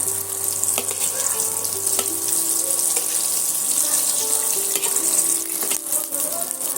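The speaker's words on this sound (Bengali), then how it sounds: "এটা আমি লো টু মিডিয়াম আঁচে দিয়ে একদম হালকা আঁচে ভেজে নেব" Eggs fry over low to medium heat in a hot pan, a constant crackling sizzle and hiss that stays even and close throughout.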